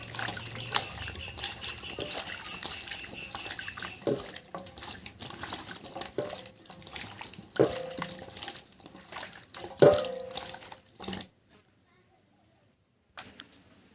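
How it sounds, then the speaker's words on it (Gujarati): Water splashes and trickles into a vessel in uneven pours to wash bamboo shoots, with clinks of metal and brief pauses, then quiet near the end. "હવે આમાં પહેલાં પાણી નાખી દઈએ આપણે ધોવા"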